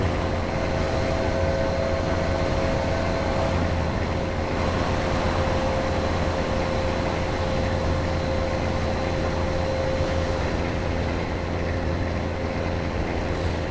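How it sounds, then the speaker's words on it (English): An idling truck engine in the American Truck Simulator video game hums with a steady, unbroken drone and a faint high tonal whine, constant throughout and heard alone. "I could just sit here and enjoy that engine sound all day"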